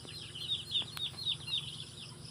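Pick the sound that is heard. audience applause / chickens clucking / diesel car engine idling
chickens clucking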